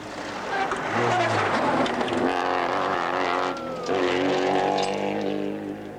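A 1984 rally car engine roars close by during the Sanyo Rally in New Zealand, revving and shifting gears as it drives past, loud and harsh throughout.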